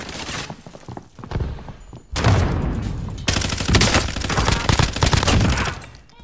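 Bursts of video game gunfire in a tactical shooter, with heavy automatic fusillades and loud thuds that fill most of the stretch after a brief quieter opening, close and dense.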